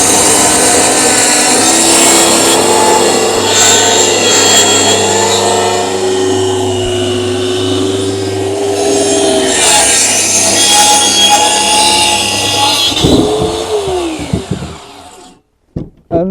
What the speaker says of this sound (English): Even though this is a plunge saw, hang it slightly off the end of it